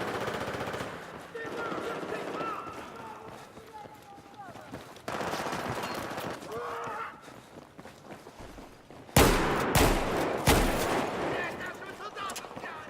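Shotgun blasts and automatic gunfire from Battlefield 4 in Gunmaster mode, several sharp bursts across the scene alongside footsteps, with a player talking over the action.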